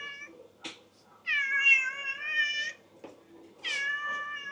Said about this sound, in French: on est tombé sur un chat qui miaule